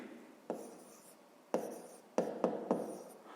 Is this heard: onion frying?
no